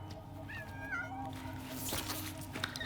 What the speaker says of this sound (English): I like the little tar cat.